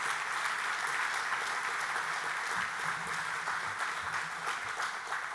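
Sustained audience applause at a family picnic political event, steady dense clapping throughout, moderately loud and filling the whole clip with no talk over it.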